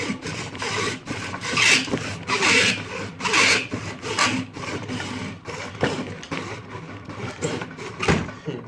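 A hacksaw cuts through toy model plastic clamped in a vise, with quick back-and-forth rasping strokes in a steady rhythm, close and fairly loud, with no talking.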